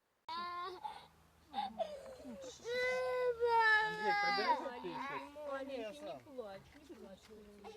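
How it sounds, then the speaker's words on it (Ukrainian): A baby cries at a car crash scene, a series of wailing, sobbing bursts rising and falling over several seconds, close and clear, with short breaths and whimpers between the cries. "Дитячий плач на місці аварії не стихав до самого приїзду швидкої допомоги."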